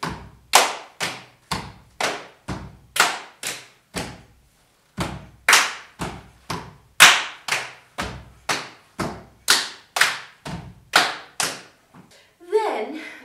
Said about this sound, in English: So we have clap, hit, stamp.